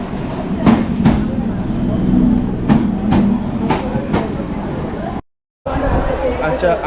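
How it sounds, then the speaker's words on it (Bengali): A Krishnanagar City local train pulls into Sealdah station in Kolkata with a steady loud rumble and repeated rhythmic clacks of wheels on rail joints, while voices murmur in the background. "ট্রেন ঢুকে গেছে, দেখতে পাচ্ছ"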